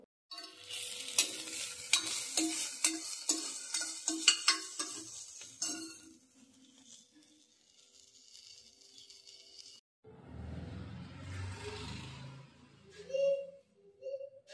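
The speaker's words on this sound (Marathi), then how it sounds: "तर त्याच्यासाठी मग आता हे कांदे भाजून घेते." Onions roasting and being stirred in a pan for a village-style urad dal amti, with busy scraping and sizzling up close, then a quieter stretch and a brief burst of softer frying noise near the end.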